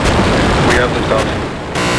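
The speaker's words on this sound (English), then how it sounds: "We have liftoff." The SpaceX Starship rocket lifts off with a loud, dense, crackling roar that fills every moment, with a voice speaking briefly over the blast.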